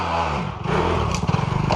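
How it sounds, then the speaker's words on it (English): An MX dirt bike engine revving hard as the rider pushes it, a loud buzzing drone rising and wavering with throttle, heard close and alone without talk. "he's fucking flying it now on the MX bike"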